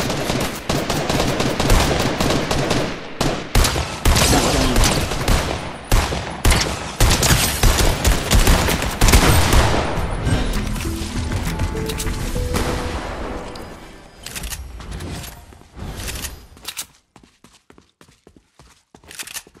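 Dense bursts of rapid gunfire from the Fortnite video game, loud and continuous for about fifteen seconds of a firefight, then thinning to scattered quieter shots and near silence at the end.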